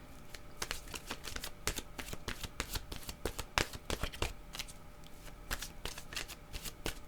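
Oracle cards from an intuitive-soul deck being shuffled by hand: a steady run of quick, crisp riffling and sliding rustles, close and fairly soft, with no talking.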